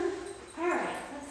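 Puppies give a soft, brief whimper at close range over low background noise.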